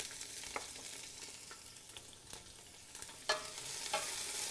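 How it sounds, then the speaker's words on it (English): Onions, celery, jalapeno and peppers fry in olive oil in a pan, a soft steady sizzle broken by occasional stirring scrapes and clicks, close and fairly quiet with no talking. "I'm just going to fry those up."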